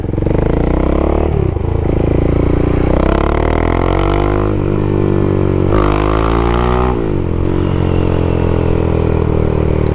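A big single-cylinder motorcycle revs hard and accelerates through the gears, its loud, close engine note climbing in pitch with several shifts and dips, no voices over it.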